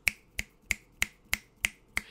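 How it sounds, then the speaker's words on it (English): Seven crisp finger snaps in a steady, even rhythm, each sharp and close, with no voices in between. "Can you snap your fingers?"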